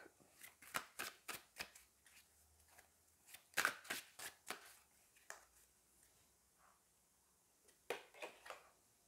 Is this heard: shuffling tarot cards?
yes